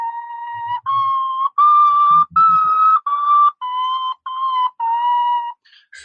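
A century-old wind instrument sounding a short series of clear, whistle-like tones stepping through a scale, each note held briefly with small gaps between them, loud and close with no talk over it.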